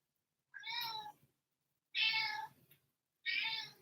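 A cat meows three times with short pauses between calls, clear and fairly close, with no talking over it.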